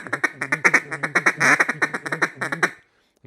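A duck call blown as a rapid slide quack, a close, loud run of about twenty clipped quacks in quick rhythm, swelling in the middle and then cutting off into silence.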